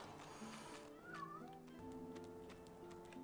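A cat meows in the fantasy role-playing game Divinity: Original Sin 2, a single rising-and-falling cry set against a layered, steady game soundtrack and ambience, with no talking over it.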